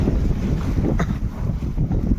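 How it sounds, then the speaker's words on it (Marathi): Strong, steady wind buffets the microphone over a broad rumble of open water aboard a boat at sea, with no talking. "वारा पण भरपूर आहे आज"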